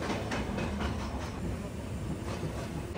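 A passenger train out of Dhaka rolls into Airport railway station, a muffled onboard rumble with soft rhythmic wheel knocks and a steady hiss, heard from inside the carriage.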